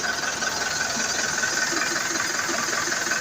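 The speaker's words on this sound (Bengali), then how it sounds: "ইঞ্জিনের সাউন্ড শুনেছেন?" A Tata 1109 truck engine idles with a steady, even mid-pitched drone and faint rattle, close and continuous with no voices over it.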